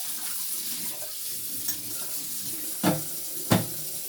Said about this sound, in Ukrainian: помиємо наші грибочки.